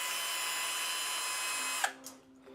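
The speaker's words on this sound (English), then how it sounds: "pull it tight and drill for a couple of seconds" A power drill spins loudly and steadily for nearly two seconds, twisting a length of wire held taut with pliers, then winds down and stops, leaving a few faint clicks and handling noises.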